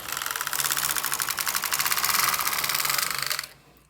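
Rapid, steady mechanical clacking of a Singer double bed knitting machine carriage knitting jacquard runs for a few seconds at close range, then the carriage stops and the noise cuts off abruptly.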